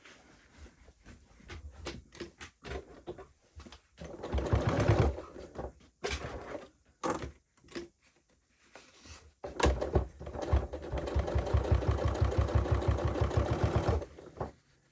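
Sewing machine stitching a seam for Regency-style dressmaking, heard close in stop-start runs with clicks and handling noises between, then a long steady burst of rapid stitching.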